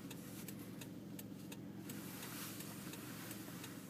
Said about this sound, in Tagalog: Kotse niya ay Honda CR-V.